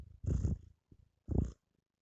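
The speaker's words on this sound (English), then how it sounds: "she purrs instead of saying goodbye." A pet cat purring near the mic in two short rumbling bursts with a gap between them, low and fairly soft, with no talking over it.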